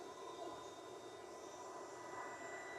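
A KKSevens induction heater switched on beside a car's rusted exhaust nut, giving a faint steady hum with thin high whine tones that hold constant throughout, no talk.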